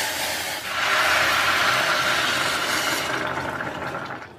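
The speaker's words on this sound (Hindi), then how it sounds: "गरम पानी इसके अंदर डालेंगे।" Hot water poured into a pan of roasted basmati rice, a loud steady hissing sizzle that swells after a brief start and slowly fades, with no voices.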